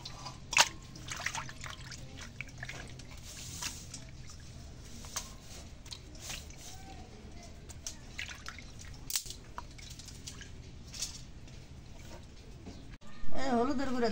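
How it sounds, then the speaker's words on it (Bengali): Cut fish pieces are washed by hand in water, with scattered drips, trickles and small sloshes at close range, punctuated by occasional clinks and splashes, while people talk in the background. "এখন মাছটা এখন ধুয়ে নেই।"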